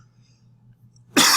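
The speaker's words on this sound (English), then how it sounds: "They cough." A single close cough bursts out suddenly after about a second of near silence, loud and abrupt, and is cut off at the end.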